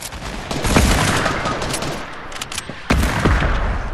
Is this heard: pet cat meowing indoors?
no